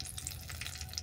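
Whole spices such as bay leaf and cinnamon sizzling in hot oil in a pan, a steady close hiss heard alone for a moment.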